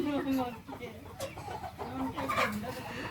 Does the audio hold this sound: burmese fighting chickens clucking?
yes